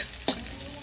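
Garlic being added to a hot pan for sweet and sour maya maya fish: a sudden sizzling burst as it hits the oil, then a steady soft frying hiss with light stirring, fairly faint and without talk.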